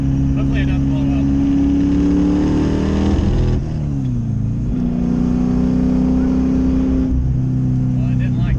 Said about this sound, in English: probably gonna try to make one nitrous hit and see what the car does.